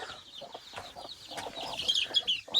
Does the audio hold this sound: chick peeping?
yes